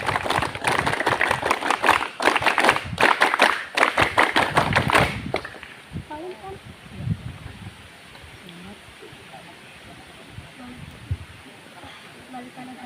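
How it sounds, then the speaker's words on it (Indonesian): Scouts at a Pramuka camp on Bukit Sanghyang Dora perform the rhythmic Pramuka clap, sharp patterned claps in a loud burst for about five seconds, then stopping into quieter outdoor ambience with faint voices. "tepuk pramuka 2 kali."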